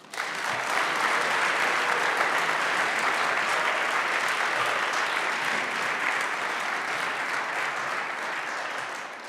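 An audience in a college chapel applauds to welcome a speaker, steady sustained clapping from many hands that fills the hall at even volume for about nine seconds before starting to taper.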